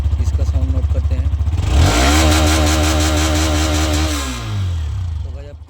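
Hero Xtreme 125R motorcycle exhaust starting up and revving: a steady idle putter rises into a loud, sustained rev for about two seconds, then drops back to a rough idle, close and clear.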